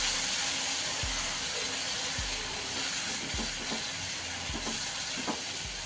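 Masala roasting in hot oil for Kashmiri dum aloo, a steady broad sizzle and hiss filling the clip, with occasional low thumps of stirring against the pan and no talking.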